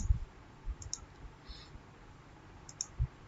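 Computer mouse clicks while working in a spreadsheet: a few soft, isolated taps spaced across a few seconds, close and faint in a quiet room.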